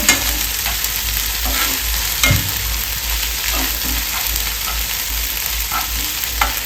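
Ginger garlic paste fries in oil for stuffed squid, a steady close sizzle with occasional scraping stirs of a spoon in the pan throughout.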